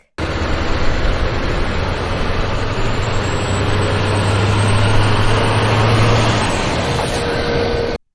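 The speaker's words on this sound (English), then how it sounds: "Can you hear the sound of tow truck?" A tow truck's heavy engine runs in a steady, loud, low rumble for several seconds with no voices, holding an even idle-like drone before cutting off abruptly.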